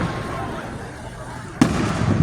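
A fireworks show at Booneville sends a sudden loud burst partway through, followed by crackling rumble, after a stretch of quieter outdoor ambience.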